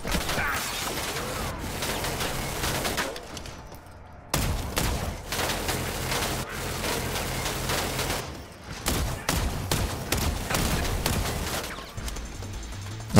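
Gunfire from the video game System Shock comes as bursts of rapid mechanical shots with clattering, ratcheting texture. Brief pauses break them up, and the shooting is steady and fairly loud throughout.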